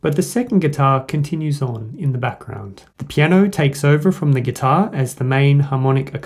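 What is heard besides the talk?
None of the usual background noises is heard.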